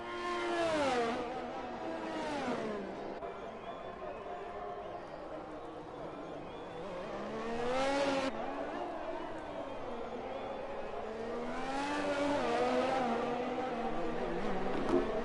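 A race car in a racing video game runs a hot lap, its engine rising and falling in pitch through repeated shifts and revs, with a voice talking over it at times.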